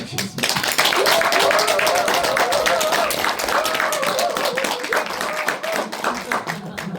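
An audience at a Korean book concert for a poetry collection claps loudly and steadily, a dense patter of many hands, while a voice speaks briefly beneath the applause.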